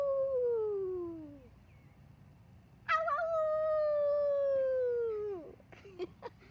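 A human voice imitates a howling wolf, giving two long, drawn-out howls that slide downward in pitch with a short gap between them. The howls are close and clear and end in a few brief vocal sounds.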